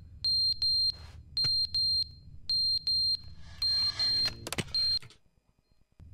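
A fire alarm in The Stanley Parable: Ultra Deluxe sounds repeated shrill paired beeps, loud and close, ending in a jumble of clattering noise before fading to near silence.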